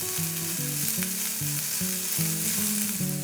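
Shallots sautéing in a pan with pepperoncino, salt and pepper, giving a constant, dense close sizzle with no talk over it.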